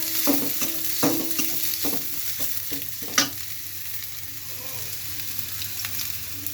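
Sliced onions hitting hot oil in a pan for a liver curry, a steady crackling sizzle with intermittent stirring scrapes, close and fairly loud, no talk.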